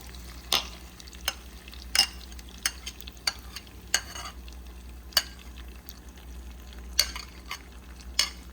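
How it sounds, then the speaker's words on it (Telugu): Chutney is stirred into hot, sizzling tempering in a pan, giving a steady soft sizzle broken by about a dozen sharp scraping strokes of the spoon at irregular intervals, close and without talk. "ఇప్పుడు ఈ చట్నీని ఇందులో వేద్దాము"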